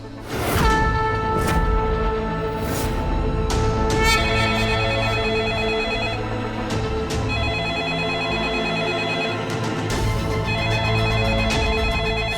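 An incoming call rings out as a repeated electronic telephone ringtone, clear tonal bursts recurring in a steady pattern, with whooshing musical effects around it and no talking.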